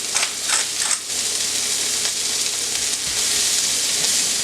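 Onions with salt and pepper sizzle alongside sausage in a cast iron skillet, a steady close crackling hiss with a few sharper pops early on, no talking.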